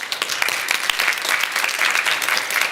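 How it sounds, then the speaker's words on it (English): Sustained audience applause at a corporate CEO report presentation: dense, even clapping from a large crowd fills the whole stretch at a steady level with no voices over it. "please stand up and be applauded."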